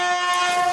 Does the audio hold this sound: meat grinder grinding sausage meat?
no